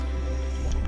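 Underwater bubbles gurgle and squish in a brief, close burst during a dive among kelp off the Channel Islands.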